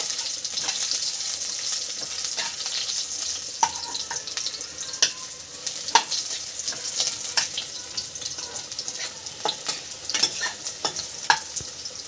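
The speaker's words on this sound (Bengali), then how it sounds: "বড়িটা ভেজে নিচ্ছি এর সঙ্গে" Bori lentil dumplings fry in oil in a pan alongside radish for a Bengali cauliflower-stem charchari, giving a constant soft sizzle broken by scattered crisp pops and clicks of stirring over about twelve seconds.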